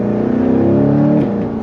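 An American supercar's engine revs loudly up close, holding a strong rising drone before the pitch eases and drops near the end, with no talking over it.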